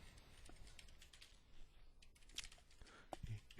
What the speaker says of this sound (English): probably hearing me typing now just because I'm trying to register on this site